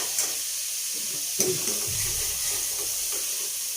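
Chopped onions sizzle steadily in a hot pan for bathua saag, with occasional scraping stirs and a few clinks of the spoon against the metal, all close and clear with no voices.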